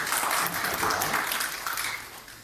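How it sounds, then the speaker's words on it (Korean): A church congregation at a Sunday worship service claps together in a brief burst of applause that fades out toward the end. "하나님께 영광의 박수로"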